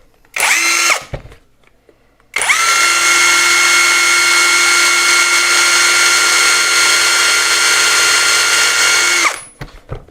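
A KAMOLEE DTW500 cordless impact wrench runs at maximum speed, a loud steady high motor whine with strong harmonics. A short burst comes first, then a pause, then one sustained run of about seven seconds that winds down at the end.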